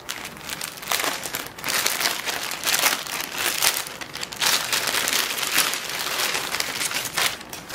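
Plastic packaging of a Nike sportswear delivery with a tank top, bra and T-shirt being torn open and unwrapped, loud close crinkling and rustling in repeated bursts throughout, with no talking.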